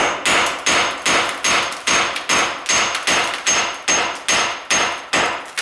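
Repeated tool strikes on a kitchen tile countertop as the top layer is worked loose with a pry bar, about a dozen sharp, loud, evenly spaced hits close by with no talking.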